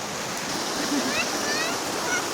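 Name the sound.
waterfall rushing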